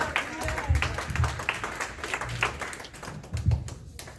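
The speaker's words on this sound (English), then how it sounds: "let's clap your hands and give me praise" A church congregation claps along during a sermon on giving, producing scattered, uneven hand claps with a few louder bursts over a murmuring room, moderately distant.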